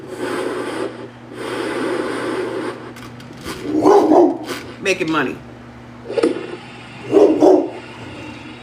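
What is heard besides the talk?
dog barking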